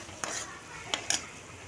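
Tomatoes with coriander powder are stirred in a pan for egg rice, a utensil scraping and clinking against the metal in three distinct strokes over a faint background sizzle.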